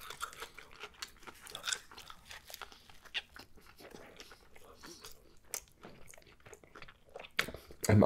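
Chew sticks are bitten and chewed close to the mic during a halal mukbang, with irregular soft crunches and mouth sounds over several seconds and a louder burst at the end.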